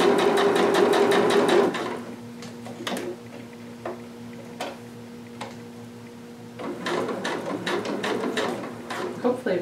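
A sewing machine runs through lining and stretchy fashion fabric in two fast bursts at start and end, with a quieter gap of handling clicks and talk between.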